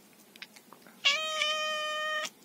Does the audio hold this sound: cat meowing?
yes